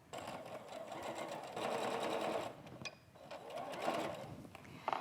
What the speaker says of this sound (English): now I'm going to sew these 2 units together, and then we'll sew all 4 together